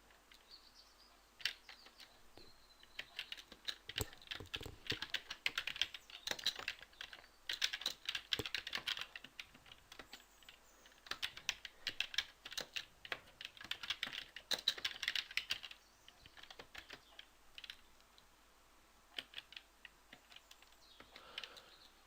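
Steady bursts of typing on a computer keyboard while ABAP code is written, quick clattering keystrokes in clusters separated by short pauses, close and fairly quiet, with no talking.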